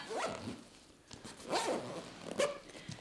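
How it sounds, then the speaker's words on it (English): Front pocket of a diaper backpack being zipped shut, a few quick, quiet zipper rasps close by with no talking. "I actually put my wallet in the center and zip this up"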